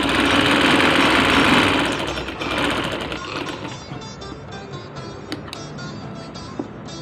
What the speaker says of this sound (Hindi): सबसे पहले सीधी साइड पे एक सिलाई देंगे